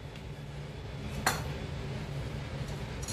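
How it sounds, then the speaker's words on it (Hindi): A metal kadhai set down on a gas stove gives a single sharp clank against the burner grate, heard fairly faint over a low, steady background hum. "ये लिए हमने एक कढ़ाई और गैस को ऑन कर दिया है।"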